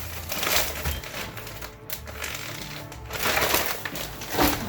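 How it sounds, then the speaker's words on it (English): Coarse abrasive grit thrown by hand into a homemade rock tumbler barrel packed with large woodland rocks, giving a close, gritty rattling and crunching that swells in bursts across the clip. "Throw quite a bit of abrasive in there."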